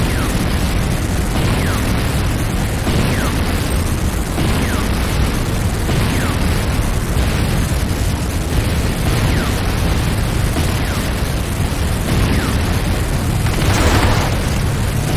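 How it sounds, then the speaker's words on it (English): A GDI weapons factory blows up in Renegade with a sustained, loud roar of explosions and rumbling blasts that fills the whole stretch, with repeated bursts layered on top. "GDI weapons factory destroyed."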